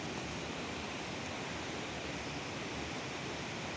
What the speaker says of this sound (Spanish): Mirad que agua más limpita que corre por esta garganta.